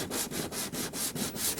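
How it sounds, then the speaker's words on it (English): Rhythmic sandpaper rubbing on the edges of a Rotorway EXEC 162F helicopter panel, steady back-and-forth strokes with short regular pauses, close up and alone. "Sand the edges of the panel for the desired fit."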